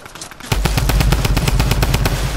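Rapid automatic gunfire from the video game Fortnite rattles in a close, loud, evenly spaced burst of about a dozen shots after a brief quiet start.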